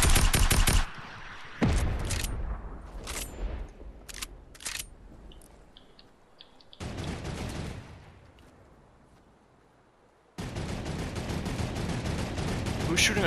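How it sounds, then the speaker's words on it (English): Turret gunfire in a multiplayer shooter video game, heard as loud sustained bursts of rapid automatic fire at the start, middle and end, separated by quieter stretches with scattered single shots. "Who's shooting a turret?"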